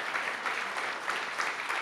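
Audience applause for event demoers and partners at the Awesome People Party, a steady dense clapping that holds at even loudness throughout, with no voices over it.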